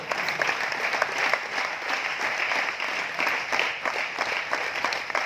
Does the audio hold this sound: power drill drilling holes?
no